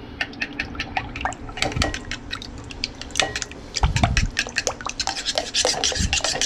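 A spoon stirs a whole egg into a Florida-style key lime pie mixture in a bowl, giving repeated close scraping and rubbing strokes with soft wet clicks at an uneven rhythm.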